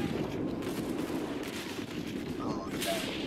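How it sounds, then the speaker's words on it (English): Artillery fire in the Roblox game Centaura, heard as a continuous low rumble of distant booms and crackling blasts that runs throughout, with a voice speaking faintly over it. "There goes the artillery."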